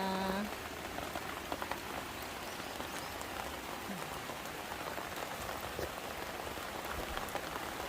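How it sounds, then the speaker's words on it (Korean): Heavy rain pours down steadily, a dense hiss of drops drumming on surfaces, loud and continuous throughout with no voices. "빗소리가 엄청 많이 들리네요."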